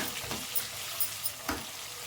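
Chopped onions frying quietly in a pan for an avarekalu upma, a soft continuous sizzle with a few light stirring scrapes, no talking.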